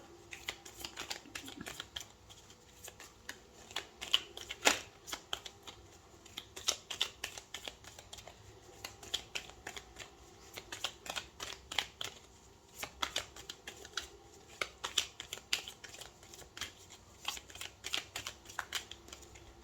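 Tarot cards are shuffled and cut in a quiet room, a soft continuous riffling and flicking with irregular sharper snaps, close and faint, with no talking.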